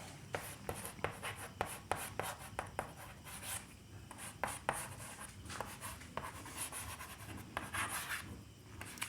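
A pen writes an equation on paper for a Class 10 maths lesson, giving a steady run of scratchy strokes with frequent short taps and lifts, close and faint against a low room hum, with no voices.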